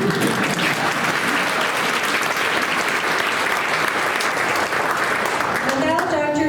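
At an LGBTQ awards ceremony, a crowd claps steadily in a broad, continuous wave of applause, loud and sustained, before a voice cuts in near the very end.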